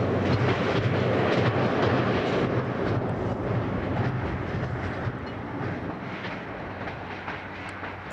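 A train rumbles steadily along a British coastal railway line in the Lake District, a continuous loud roar of wheels and carriages with a faint clickety-clack, and no voices.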